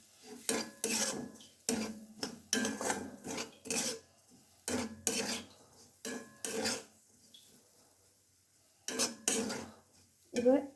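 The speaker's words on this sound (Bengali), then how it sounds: "এবার এটা নেড়ে চেড়ে নিচ্ছি।" Vegetable suji being stirred in a metal pan with a utensil, giving repeated scraping, clinking strokes in uneven bursts with short pauses, fairly close and moderately loud, with no talking.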